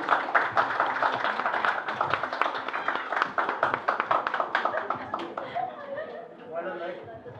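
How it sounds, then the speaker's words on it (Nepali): A village community gathering audience claps in dense, steady applause for several seconds, with crowd chatter mixed in and the clapping thinning slightly toward the end. "हाम्रो छोटी नरेश गुरुङ हुनुहुन्छ त्यसको लागि हामी सम्पूर्ण समाज परिवारबाट प्लिज ठुलो ताली दिनु पर्यो"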